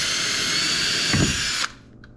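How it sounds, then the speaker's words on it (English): A power drill drilling a hole for mounting a Helix 9 whines steadily at high speed, close and loud, then abruptly stops, leaving a faint click afterward. "So we're gonna drill our hole here"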